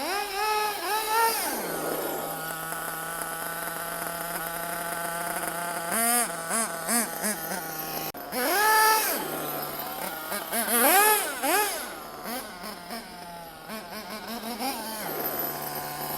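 A small nitro RC car engine buzzes with a high, whiny pitch, revving up in several rising sweeps and dropping back to a steady idle between bursts, loud and close.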